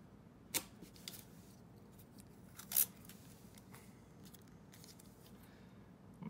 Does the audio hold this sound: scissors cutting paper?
yes